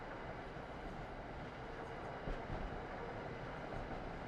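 Amtrak train rolling past in the Train Sim World game near Boston, a steady broadband rumble of wheels and rail noise, quiet and continuous, with a faint rise in clatter partway through and no voices.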